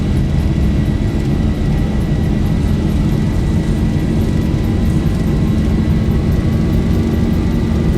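Boeing 737-800 engines in the X-Plane 12 simulator roar in a dense, steady wall of sound at takeoff power, with a sustained high whine riding on top and no voices.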